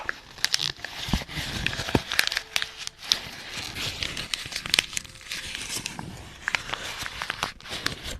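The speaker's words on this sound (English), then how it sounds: "Is that good for paper sounds?" Sheets of paper crumpled and crinkled close to the microphone during an ASMR session, with dense, irregular crackles and sharp rustling bursts running steadily throughout and no talking.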